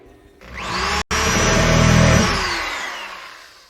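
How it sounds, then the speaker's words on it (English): A bandsaw cuts a profile in cherry wood, giving a loud, close, sustained whine and rasp that drops out for an instant, then rises and slowly fades. "the bandsaw makes it real easy to cut out the profile"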